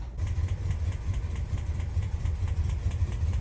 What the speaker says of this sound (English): Idling the car right now.